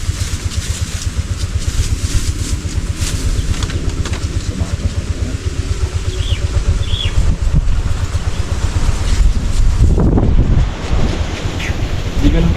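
Strong wind buffets the microphone in a constant loud roar, with low rumbling gusts and faint voices briefly audible beneath it.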